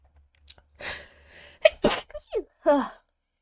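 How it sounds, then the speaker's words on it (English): A sudden loud sneeze bursts out near the microphone, preceded by a sharp intake of breath and followed by brief vocal sounds. "That sneeze came out of nowhere."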